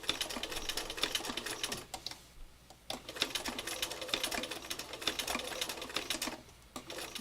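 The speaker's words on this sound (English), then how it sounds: "Slow stitching, one stitch at a time." A sewing machine stitches slowly around a curve, its needle clatter coming in uneven bursts with a brief pause midway, close by and with no talk.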